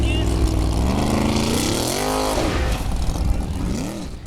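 A formula offroad car climbs the final hill at Hella in Iceland, its engine loud and revving with rising and falling pitch as it strains upward, while a commentator talks over it.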